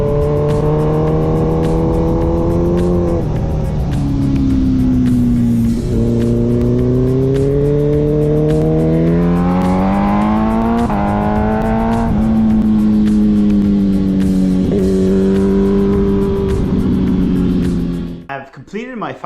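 Onboard sound of a racing motorcycle engine revving hard on a track, with a loud, steady high-rpm drone that rises and falls in pitch as the bike shifts through gears and climbs toward 10,000–11,000 rpm.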